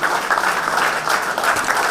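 A crowd at an Urdu mushaira in Kuwait claps hard, a loud, continuous stretch of applause that holds steady throughout.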